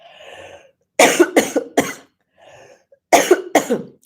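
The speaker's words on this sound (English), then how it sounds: "hard to predict when the cough is going to come" Two bursts of harsh coughing from a person with a cold, each a quick cluster of three or so coughs, close and loud, separated by a short pause with faint breathing.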